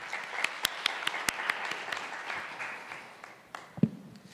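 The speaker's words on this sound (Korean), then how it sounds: "큰 박수 부탁드립니다" Audience applause at a Korean gender equality forum session, with scattered sharp claps that gradually thins and fades, ending with a single louder knock.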